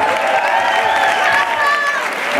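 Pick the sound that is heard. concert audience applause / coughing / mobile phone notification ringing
concert audience applause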